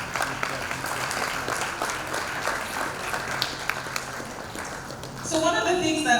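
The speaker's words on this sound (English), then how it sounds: "let's give a resounding applause to our panelists" An audience at a fintech forum applauding its panelists, a steady wash of clapping that swells louder toward the end, heard indoors in a large hall.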